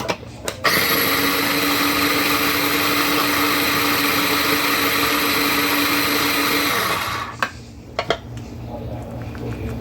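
A food processor chopping ingredients very fine whirs loud and steady for about six seconds before cutting off, followed by a few clunks and rattles of the machine.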